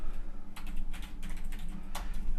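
Rapid typing on a computer keyboard, a close string of quick key clicks with a brief pause, set over a steady low hum.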